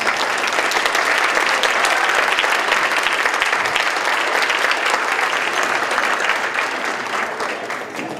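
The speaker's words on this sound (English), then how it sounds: "And another round of applause for Pooja and Naveen." Sustained, dense applause from a wedding reception crowd honours the couple Pooja and Naveen, a loud, even wash of many hands clapping that holds steady and then tapers slightly toward the end.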